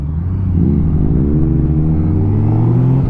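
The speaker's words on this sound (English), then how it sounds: "It's got a nice little burble, crack, pop, whatever the terms are you use for exhaust." A Honda CB1000R motorcycle idles and revs in a low, throaty exhaust burble with cracks and pops, the engine pitch rising and falling steadily close by.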